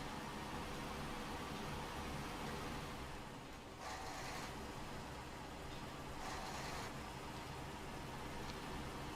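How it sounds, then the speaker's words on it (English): A truck engine from the off-road driving game SnowRunner drones steadily and fairly quietly, with a rough, repetitive hum that barely changes and a couple of brief hissy swells partway through. "Yep, it's that repetitive engine sound."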